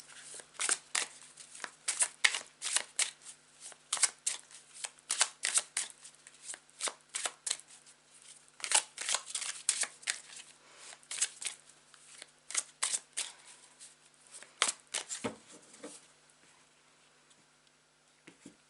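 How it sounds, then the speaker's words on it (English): Tarot cards are riffled and shuffled by hand in quick crisp bursts of papery clicks and flutters, repeated many times close by and then tapering off near the end. "now's the time to take a couple of deep breaths and relax whilst I shuffle it"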